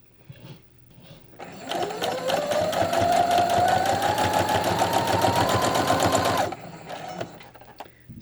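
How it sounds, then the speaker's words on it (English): A sewing machine chain-pieces quilt squares with a piecing foot on a standard stitch and quarter-inch seam, running as one steady, rapid, close whirring stitch for about five seconds between quieter handling sounds. "and I am doing what they call chain piecing."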